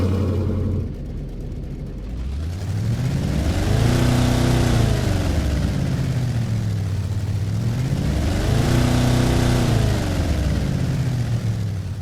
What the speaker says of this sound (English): so you can listen to this beautiful V8 engine